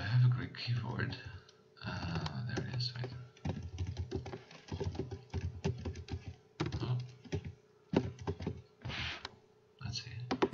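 Typing on a Greek-layout computer keyboard, a run of quick key clicks in bursts with short pauses, close and fairly quiet, with someone speaking over much of it.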